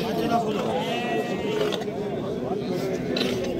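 Several sheep bleat close by, overlapping one another against a busy background of people talking at a sheep and goat livestock bazaar in Nookat, Kyrgyzstan.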